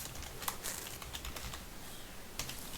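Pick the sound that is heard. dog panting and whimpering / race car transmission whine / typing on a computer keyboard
typing on a computer keyboard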